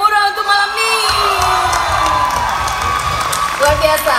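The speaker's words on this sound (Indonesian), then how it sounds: "Jom beri tepukan yang gemuruh untuk malam" A concert audience at a music contest final roars with cheers, whoops and shouts, with clapping underneath and music playing along throughout; loud and close, with a crowded, lively wash of voices.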